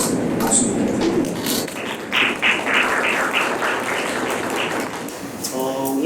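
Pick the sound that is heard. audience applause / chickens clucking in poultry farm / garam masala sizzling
audience applause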